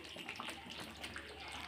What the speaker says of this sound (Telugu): ఇట్లా వాటర్ ఉడికేటప్పుడు పోసుకోవాలండి